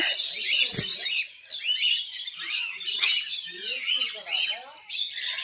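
Small birds chirp and twitter repeatedly around sparrow nests at a zoo aviary in Tirupati, with a brief low thump and some background voices.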